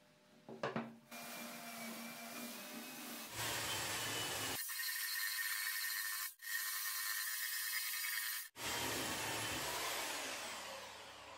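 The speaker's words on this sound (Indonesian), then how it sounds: "Amplas kasar terlebih dahulu menggunakan belt sander untuk kaki dan alas maupun sandarannya." A belt sander grinds rough meranti wood chair parts: legs, seat and backrest. Its harsh motor whir starts after a few knocks and runs steadily with two brief stops.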